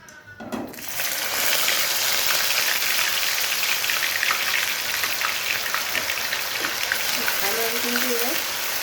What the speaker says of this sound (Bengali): মশলাটাকে ভেজে নিতে হবে আর ভালোভাবে কষিয়ে নিতে হবে